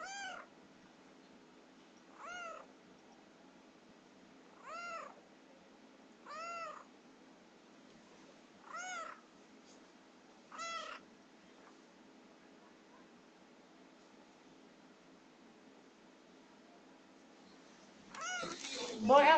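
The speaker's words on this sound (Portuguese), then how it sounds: "se vocês tiverem uns miau aí," A pet cat meows six times at regular intervals of roughly two seconds, short and fairly faint over a quiet background hum, followed by a louder burst of noise at the end.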